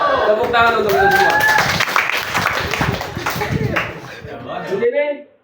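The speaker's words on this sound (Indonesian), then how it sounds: "Tepuk tangan untuk itu semua." An audience claps at an Islamic talk, sharp sustained hand claps that rise together under voices and excited calls, then fade out near the end.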